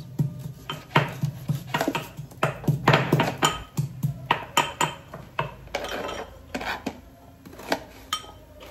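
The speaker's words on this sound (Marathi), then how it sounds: "मी कांदा कापते गाईस." Onion being chopped with a knife on a board in a home kitchen, a run of loud close irregular knocks and clinks, several quick strikes in bursts, no talking.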